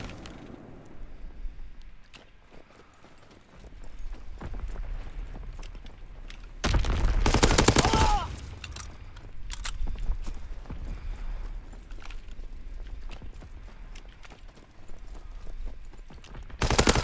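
Rapid gunfire in a WWII multiplayer video game: repeated bursts of shots and impacts, with one loud, dense volley in the middle and scattered shots before and after, with no talk.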